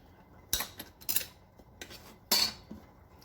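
A lid comes off a can of corn in a few sharp metallic clicks and scrapes, close and brief, separated by near-silence.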